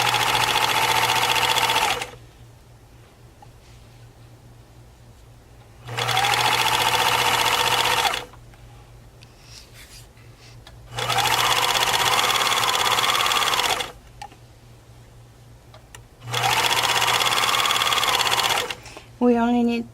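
A sewing machine stitches stretch lycra fabric into straps, running in four loud bursts of about two seconds each, separated by quieter pauses in which a person talks.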